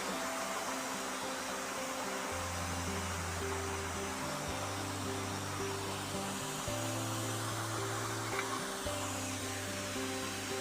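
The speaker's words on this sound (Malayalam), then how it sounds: "നല്ല മഴയാണ് ഇവിടെ ഒന്നും പറയുന്ന കേൾക്കുന്നേ ഇല്ല ഭയങ്കര മഴയാണ് ഇവിടെ" Heavy rain pours down in a continuous, loud broadband roar that never lets up, with a low droning hum running beneath it and no speech audible.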